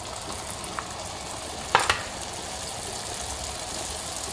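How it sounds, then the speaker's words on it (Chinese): Flattened dough for fried cakes sizzles in very hot oil, a steady close hiss broken by a short burst of louder crackling as the dough goes in. "开始下锅炸"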